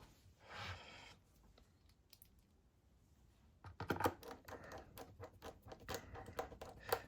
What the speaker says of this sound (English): I'll just put in all of the screws here.